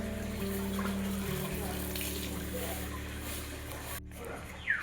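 Water runs steadily from a tap as someone washes hands and feet after priming work, a soft continuous splashing stream with a low hum beneath, ending in a faint clatter.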